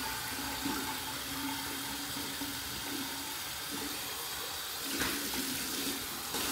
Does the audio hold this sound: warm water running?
yes